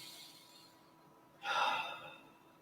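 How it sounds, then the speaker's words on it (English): A single deep inhalation during a guided meditation, soft and breathy, rising suddenly after a quiet pause and fading slowly. "and coming in, breathing in"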